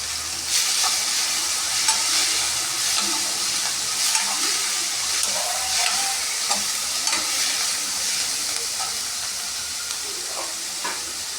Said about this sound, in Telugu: కట్ చేసి కడిగి పెట్టుకున్నాం ఫ్రెష్ తోటకూర, పచ్చిమిర్చి ఇప్పుడు వేస్తున్నాం